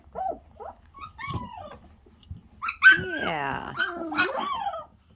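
Golden retriever puppies, 17 days old, whimper and whine close by in a run of high, wavering cries that grow busier toward the end. Someone speaks briefly among the cries.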